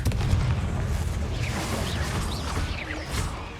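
A Confringo blasting spell in Hogwarts Legacy, heavy booming blasts and crashing debris with whooshes, loud and continuous in a dense game battle.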